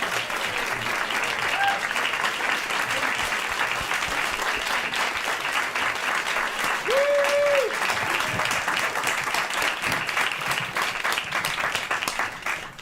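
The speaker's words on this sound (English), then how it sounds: "Please give him a huge round of applause and thank him for being here." An audience gives John Kerry a sustained round of applause at a climate event fireside chat, dense steady clapping that holds loud for the whole stretch, with a brief voice barely audible underneath.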